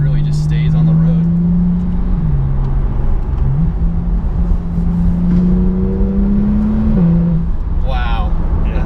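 A 2016 Porsche 911 Turbo S, about 560 horsepower with all-wheel drive, pulls hard under acceleration with a steady engine drone that rises in pitch through the gears, heard from inside the cabin as people talk over it.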